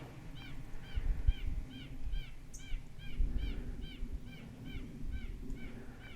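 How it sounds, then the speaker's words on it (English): Unidentified bird calling repeatedly in an oak grove of century-old oaks, a steady series of short chirped notes about twice per second, moderately distant, alone over light outdoor ambience. "Not sure what kind of bird that is."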